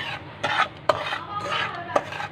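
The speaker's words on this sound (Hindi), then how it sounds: "आपने इसको हिलाते रहना है" A spoon stirs suji halwa in a dry pan without ghee, giving repeated scraping and clinking strokes against the metal at a steady, unhurried rhythm, close and clear with no talk.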